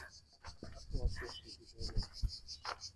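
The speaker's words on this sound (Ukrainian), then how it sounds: "Чути тут цикади, як скригочуть." Cicadas buzzing along a lemon path on the Amalfi Coast, a faint pulsing high-pitched drone throughout, with rustling footsteps and handling noises close by.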